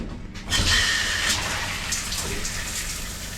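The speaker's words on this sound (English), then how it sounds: "Pretty good water pressure too, guys." Water gushes from a Joolca hot water tap in an off-grid tiny house cabin, a close, steady rushing stream that starts abruptly and keeps flowing at strong pressure, with no talking.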